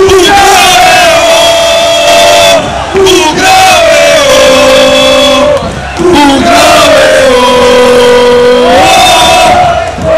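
A large crowd of Guarani F.C. football supporters chants loudly in unison, sustained sung phrases rising and falling in a rhythmic terrace song, near and overpowering.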